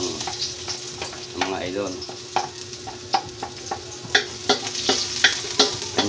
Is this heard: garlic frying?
yes